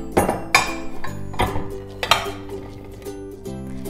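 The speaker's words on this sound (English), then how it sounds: "I'm gonna go ahead and add my potatoes over to my baking dish" Potatoes tumble into a baking dish in several quick bursts of clattering and knocking against the dish, close by and without talk.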